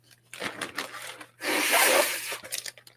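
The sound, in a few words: rummaging in a bag to get tape out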